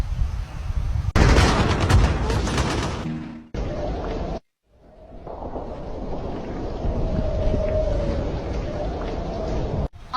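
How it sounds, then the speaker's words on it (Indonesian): Staged gunfire and grenade blasts in an amateur war drama about the battle of Ambarawa, heard as loud, rough bursts of shots and booms with heavy wind rumble on the microphone, broken by a brief drop into silence. "Desingan peluru meriuhkan suasana. Ditambah lemparan granat yang bertubi-tubi"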